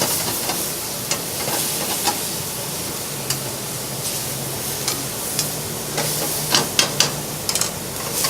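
Shrimp, tomatoes and shallot sizzling in a pan, a loud, steady hiss of frying with intermittent clinks and scrapes of stirring, and no voices over it.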